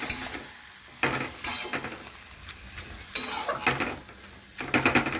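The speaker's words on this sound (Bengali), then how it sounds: "এখন ভালোভাবে নাড়াচাড়া করে লবণটা মিশিয়ে নেব।" A utensil stirs greens in a frying pan to work in salt, with scraping strokes and clinks against the metal over a soft sizzle, arriving in short bursts with quieter gaps between.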